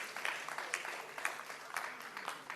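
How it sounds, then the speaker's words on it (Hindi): Distant, faint applause at a multilingual poetry gathering greets a senior Hindi poet. Scattered claps rise and fall as a soft, continuous patter throughout. "तालियों के साथ स्वागत कीजिए।"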